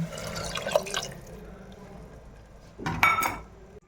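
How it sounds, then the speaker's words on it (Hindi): Water is poured into a cooking pot holding potatoes and peas, a soft splashing trickle that swells briefly near the end with a clink of the vessel. "अब डालते हैं पानी।"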